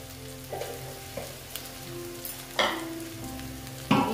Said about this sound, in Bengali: আমি নেড়ে চেড়ে নিচ্ছি।